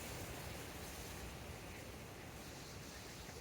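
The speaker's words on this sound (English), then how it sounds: "It's windy." Steady, loud wind roars across the microphone at a carp fishing lake at Holme Grange Fishery, a constant rushing noise with no pauses.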